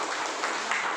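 Brief, soft applause from a classroom of students clapping at a teacher's request, a short burst of scattered hand claps heard at a distance.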